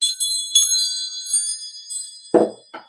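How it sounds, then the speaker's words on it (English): Wind chimes ring alone in bright, overlapping metallic tones, struck several times in irregular clusters and left to fade between strikes, with one duller knock near the end. "So let's call in spirit with a little bit of wind chime time."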